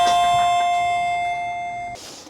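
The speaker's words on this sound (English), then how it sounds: "now we have the recording of the actual doorbell" A recording of a real household doorbell plays back from an iPad, sounding a single clear chime that rings and slowly decays for about two seconds before cutting off.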